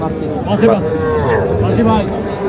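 A dairy cow at a village cattle market gives a loud, drawn-out moo close by, rising and falling over a couple of seconds, with voices in the background.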